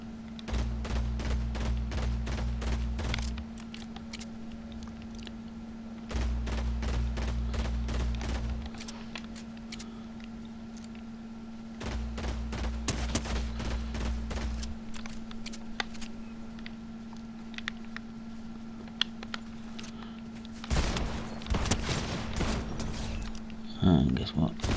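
Rapid gunfire bursts in a Fortnite match, clusters of sharp shots over a constant low game hum, with talking running throughout.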